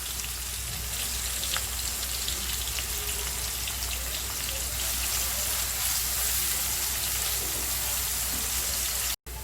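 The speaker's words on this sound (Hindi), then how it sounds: "प्याज का कलर बदली होने तक इसको भूनेंगे" Onions frying with salt in a pan for a brain curry, a continuous close crackling sizzle like rain on a surface, steady throughout with a brief cut near the end and no talking.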